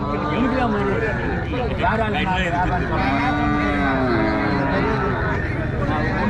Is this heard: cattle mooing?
yes